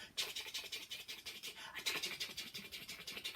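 Children make a rapid, rhythmic scratchy brushing noise with their voices, imitating a toothbrush scrubbing, steady and fairly quiet.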